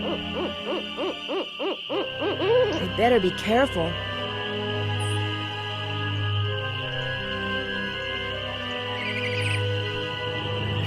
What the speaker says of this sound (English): Oh, we scared a bird away.